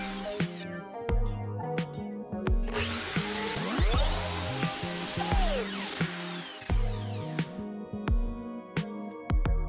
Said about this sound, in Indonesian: Saya beri lubang dengan bor.